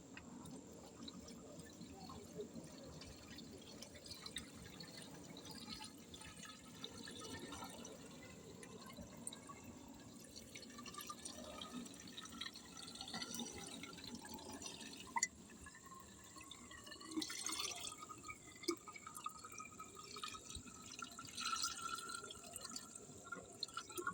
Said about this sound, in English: It's going to start putting water in.